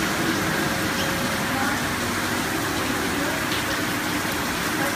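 Rain falls steadily outdoors, a dense, even hiss of drops on surfaces that stays at a constant loud level throughout with no pauses.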